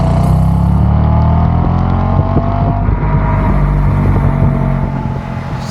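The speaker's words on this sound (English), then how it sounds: "Let's give her a little rip and see if my 360 cam can pick up the audio of her exhaust." 2010 Audi S5 revving its exhaust, a loud, close engine roar rising and holding with rough harmonic growl throughout, easing off slightly at the end.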